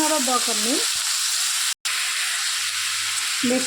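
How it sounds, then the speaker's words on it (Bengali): Sliced cucumbers frying in a pan for a traditional East Bengal curry, heard as a steady close sizzle with light stirring. A voice talks at the start and end, and there is a brief dropout midway. "শসাগুলো দিয়ে দিলাম। অল্প একটু নাড়বো"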